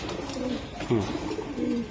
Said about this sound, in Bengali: এগুলো আমার ব্রিডার কবুতর